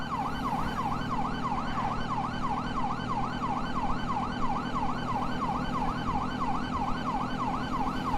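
Police sirens in Grand Theft Auto 5 wail continuously in a fast, regular up-and-down cycle, loud and close over a low vehicle engine drone, with no talk.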